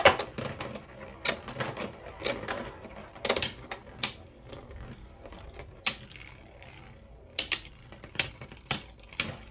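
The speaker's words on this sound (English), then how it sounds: "Let's launch the Luinor first. Rip. Rip. Here comes Fafnir." Beyblade Burst QuadDrive tops, Guilty Luinor L7 and Fafnir, launched one after another with sharp ripping bursts, then clattering and clicking as they spin and collide in a stadium, irregular loud transients close by.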